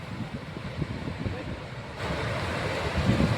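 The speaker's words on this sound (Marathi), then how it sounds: "आज हे या ठिकाणी या धरणातून पाणी सोडल्याचं दृश्य आपण बघता आहात" Steady, loud roar of water rushing out of the open gates of Jayakwadi Dam, broad and continuous like a powerful torrent, growing slightly fuller toward the end.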